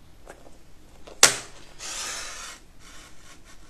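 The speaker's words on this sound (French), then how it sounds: "je finis mes angles au ciseau" Scissors snip the corners of a paper card frame: one sharp close cut followed by a softer rasping slide of the blades through the card, then a fainter scrape.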